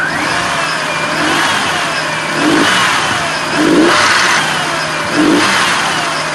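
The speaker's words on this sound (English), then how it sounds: "That's the camshaft hydraulic lifter." Nissan VG33E V6 engine revving in repeated surges over a steady running drone, with a light ticking from a camshaft hydraulic lifter riding on top, heard close and without talk.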